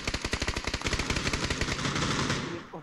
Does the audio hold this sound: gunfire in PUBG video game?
yes